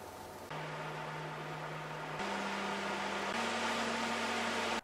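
An Arctic P14 Max 140mm PC fan at full speed gives a steady broadband whoosh of airflow with a low motor hum. The hum steps up in pitch twice as the speed settings change, constant and close, with no voices.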